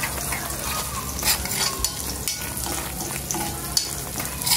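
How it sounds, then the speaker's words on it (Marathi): Ghee is stirred into masala sizzling in a frying pan for a homemade surmai ghee roast: a steady, loud frying hiss with spatula scrapes and stirring throughout. "थोडंसं आपण आता ह्याच्यामध्ये परत एक थोडंसं घी टाकूया"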